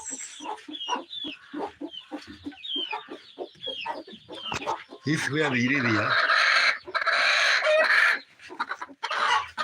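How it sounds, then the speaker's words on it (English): Chickens cluck and a rooster crows loudly in a farm chicken coop, the birds close and busy while a person talks over them. "And this is where we keep the chicken."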